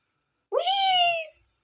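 A single clear, rising-then-level meow from a little kitty creature in the Dandy's World video game, loud and clean against silence, lasting under a second.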